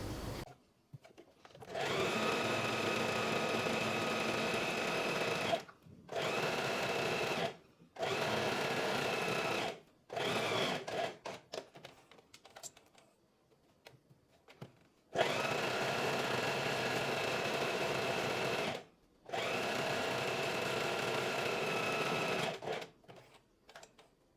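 A sewing machine stitches a skirt at its longest stitch length, running in steady whirring bursts of several seconds each, separated by short silent pauses, close and fairly loud.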